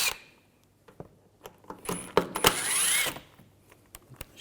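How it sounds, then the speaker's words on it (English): Screws being backed out with a T30 socket while replacing the starter on a 2011-2018 Volkswagen Jetta: a run of metallic clicks, ratcheting and clinks, loud and close, with no voices. "Just use a T30 socket. Take these screws out."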